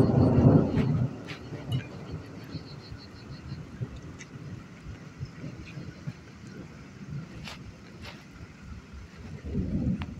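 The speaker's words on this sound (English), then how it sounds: "lightning, lightning and the thunder, thunder and the lightning, lightning and the thunder, thunder," Thunder rumbles through an electrical storm, with low booming swells at the start and end and a steady rumbling wash between them, broken by faint crackles and wind buffeting on the microphone.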